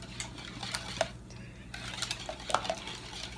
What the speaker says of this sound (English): Okay, then we're just gonna whisk.